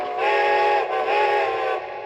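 A Lionel Strasburg 31 model steam locomotive's whistle blows steadily and close, a bright chord-like tone in two long sustained blasts that briefly dip apart and then fade out.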